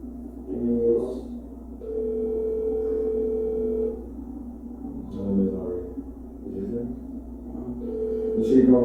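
A telephone call rings through on a phone, with steady tones held for a couple of seconds at a time and separated by pauses, while people talk nearby.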